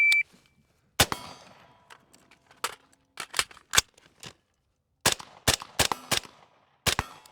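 Gunshots ring out in a night vision shooting drill as sharp, loud, isolated cracks, fired singly and in quick strings of two to four with short pauses between groups.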